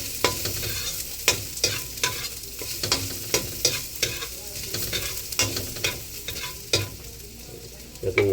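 Garlic sautés in a pan, a constant close sizzle with a regular run of sharp spatula scrapes and taps against the metal, fairly loud and without talk.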